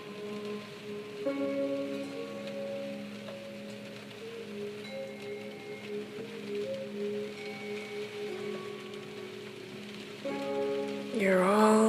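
Steady rain falls outside, a soft continuous patter on surfaces with scattered drips, heard alone at a gentle, even level beneath faint tonal background music.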